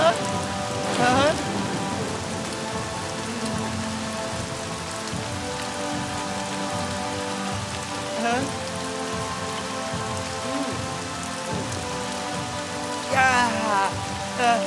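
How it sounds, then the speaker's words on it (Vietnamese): Steady rain falls in an outdoor scene from a martial arts film, a dense continuous patter over a musical backdrop, swelling briefly louder near the start and end. "Ê, trời mưa thiệt kìa."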